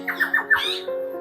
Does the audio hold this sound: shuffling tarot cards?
no